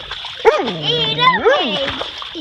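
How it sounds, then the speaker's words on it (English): A dog yelps and barks in a few rising, whiny bursts, close by, with splashing water underneath. "Startled by the aggressive response, the dog began barking."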